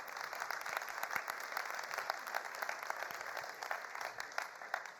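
Audience at the Grand Paris summit closing applauds guest of honour Guy Savoy, a faint, distant, steady patter of many hands clapping across a large hall.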